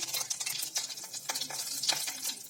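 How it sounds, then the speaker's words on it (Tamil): Mustard seeds, urad dal, a little chana dal and cumin crackle and splutter in hot oil as a tempering, with rapid irregular pops and a soft sizzle, close and fairly quiet. "இப்போ இதோட கடுகு, உளுந்தம்பருப்பு, கொஞ்சோண்டு கடலைப்பருப்பு, கொஞ்சோண்டு சீரகம் இது சேர்த்து தாளிச்சிடலாம். நல்லா பொரியட்டும்."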